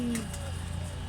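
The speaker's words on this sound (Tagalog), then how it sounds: "Look at our bird. It's flying." A pet bird gives a brief, soft, pigeon-like coo indoors, with a voice faintly present alongside.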